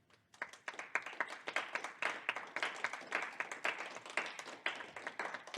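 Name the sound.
audience applause at a hackathon education session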